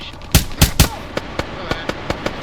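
Rapid bursts of video game gunfire during a squad mission set in Colombia: three loud close shots followed by a steady run of sharper, quieter single reports, with a voice faintly present.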